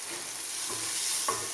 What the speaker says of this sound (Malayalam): ഞാനിന്ന് എളുപ്പത്തിൽ നേരിട്ട് എണ്ണയ്ക്കകത്തേക്ക് ഇടുവാണ്. ഇതൊന്ന് ഇളക്കി കൊടുക്കാം.